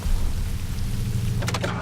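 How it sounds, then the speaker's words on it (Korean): Rain pours steadily on an afternoon, a dense continuous hiss with a low rumble underneath and a brief brighter splash of sound near the end. "비가 내리는 오후"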